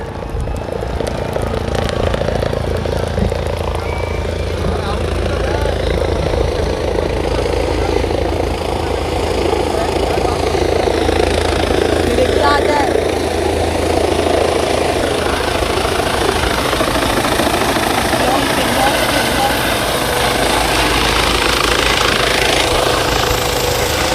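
A helicopter sets down at a political rally ground, its rotor and engine a loud, steady, dense roar that fills the whole stretch without letup.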